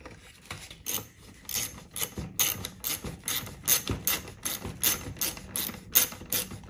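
A part on a Stihl FS46 string trimmer near its small carburetor is tightened by hand with a ratcheting tool, giving a close series of sharp rhythmic clicks in repeated bursts.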